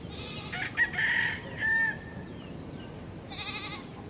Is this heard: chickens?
yes